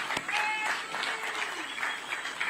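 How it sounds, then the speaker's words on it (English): Audience applause at a Zambian state occasion honouring President Hakainde Hichilema at the commissioning of a fertilizer and power plant, steady dense clapping from a large crowd filling the moment with some faint voices mixed in. "let's give a big, big round of applause"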